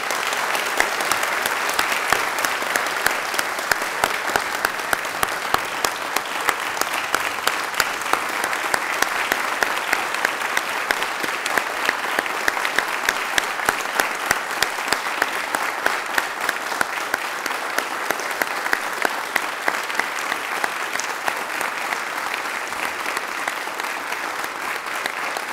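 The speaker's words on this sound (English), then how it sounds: "If I could now get a round of applause for these gentlemen." Sustained, even applause from an auditorium audience at a peace medal ceremony, steady crowded clapping continuing for over twenty seconds without any speech.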